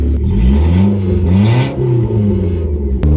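A drift-prep car with an FE3 engine swap and a new alternator idles and revs close by, its engine rising and falling in pitch continuously with a brief sharp click near the end.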